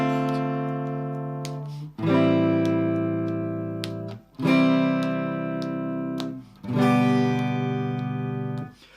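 Guitar strums the chords of a song without rhythm: four long ringing chords, each struck once and left to sustain and decay, played close and clean with no voice.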